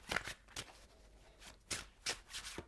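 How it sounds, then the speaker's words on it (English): Tarot cards are shuffled by hand in a quiet room, giving soft, brief riffling bursts that repeat irregularly at close range. "let's shuffle the cards"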